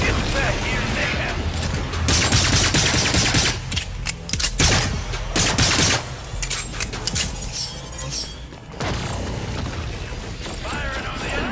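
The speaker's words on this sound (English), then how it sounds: "Firing on the enemy target." Bursts of gunfire in the action game Agents of Mayhem, loud and repeated with clattering mechanical clinks and a few booms, mixed into dense game sound with voices talking.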